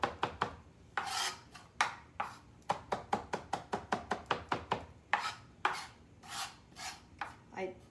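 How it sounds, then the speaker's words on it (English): A knife mincing food on a cutting board in a kitchen, with quick, crisp chops coming in uneven bursts, some fast runs of evenly spaced strikes and a few louder scraping sweeps, close and clear without talk. "keep going with that mincing motion"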